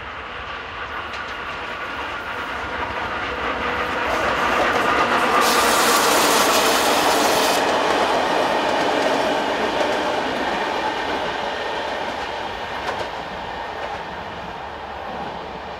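A Czech class 162 electric locomotive hauls a train past in the Elbe River valley near Usti nad Labem, with a loud rushing roar that swells, peaks and slowly fades, plus faint wheel clatter and no talking.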